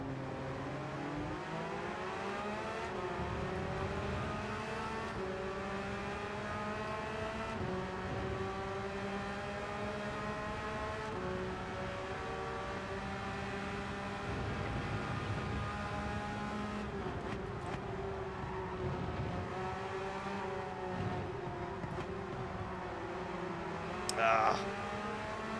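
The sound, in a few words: Porsche race car engine in video game Gran Turismo 7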